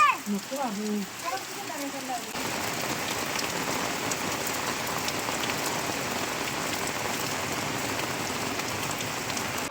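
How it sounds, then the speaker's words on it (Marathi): Steady, dense monsoon rain pours down in a village for most of the clip, a broad hiss with patter on a surface, after a few seconds of voices at the start. "पाऊस"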